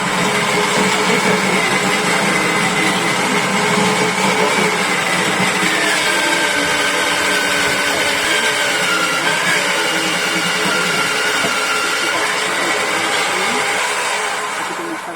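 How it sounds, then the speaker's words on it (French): Food processor grating cassava, a loud, steady motor whine and grinding churn that runs continuously and tapers slightly near the end. "on peut mettre directement dans une moulinette pour avoir la texture de râper"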